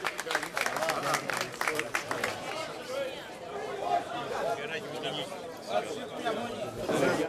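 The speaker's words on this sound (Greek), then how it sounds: "Ο Νίκος Ανδρουλάκης έγινε δεκτός με χειροκροτήματα στις Αρχάνες" A crowd in Archanes, Crete, claps to welcome the PASOK party leader on his arrival, with bursts of applause mixed with lively chatter and voices nearby.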